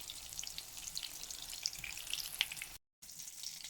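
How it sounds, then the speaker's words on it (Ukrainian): Minced-meat cutlets sizzling in a pan, a loud steady crackle and spatter throughout, cut by a brief moment of silence near the end. "Зараз буду смажити бризолі."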